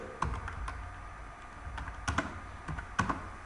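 Quick, light keystrokes on a computer keyboard while code is typed out, in short irregular bursts and separate clacks, close and fairly quiet, with no voice over them.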